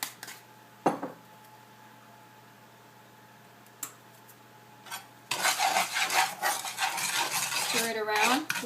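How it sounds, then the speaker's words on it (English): A spoon stirring cinnamon topping in a pot, a few isolated clinks at first, then several seconds of continuous close scraping and clattering against the metal; no voices. "Stir it around"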